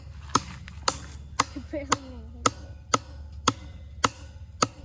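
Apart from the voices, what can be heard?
small hammer driving fence staples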